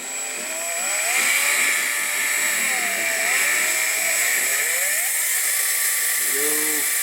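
A restored John Deere Model E stationary engine runs at about 400 RPM, a steady, close, continuous drone with a slightly wavering pitch, plus a brief higher whine near the end.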